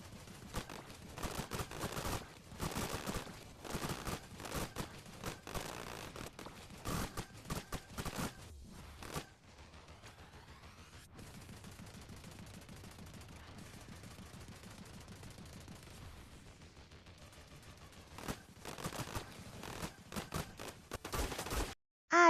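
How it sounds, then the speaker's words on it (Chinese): An assault gun fires in Eggy Party, a zombie-horde game mode, in long rapid bursts of automatic gunfire broken by brief pauses, with a quieter stretch midway before heavy firing resumes; no talking. "先来一段沉浸式打枪。"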